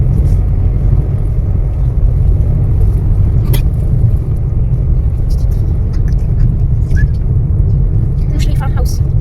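A car drives along steadily, its engine and road rumble forming a continuous low drone with occasional brief clicks and rattles inside the cabin.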